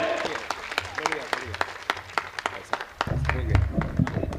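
Hand-raised audience applause at a Hindi poetry recital (kavi sammelan) in Bhilwara: brisk, rapid claps from a crowd, growing denser and louder near the end.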